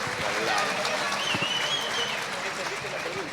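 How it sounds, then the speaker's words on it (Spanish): An audience at a church leadership Q&A forum gives a round of honorary applause, continuous clapping with voices mixed in and some cheering over the crowd noise. "Vamos, un aplauso de honra."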